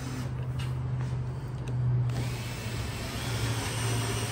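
A power tool whirs steadily as it drives a bolt into the rail of a Valley pool table, a close mechanical hum with slight rises in pitch and no talking.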